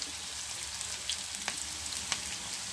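Garlic sizzles and fries in a hot pan while cooking shahi paneer with onions, a steady close crackle with small pops, no talking.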